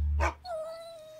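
A dog gives one sharp, close bark, then a thin, high whimpering whine trails off, in a children's animal-sounds lesson.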